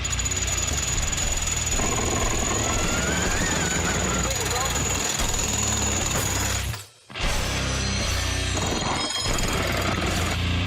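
A heavy machine-driven hammer, part of a monster digging machine built for deep underground work, pounds and smashes through reinforced glass in loud, continuous grinding bursts, with one brief break before the battering resumes.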